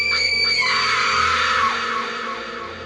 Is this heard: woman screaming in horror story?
yes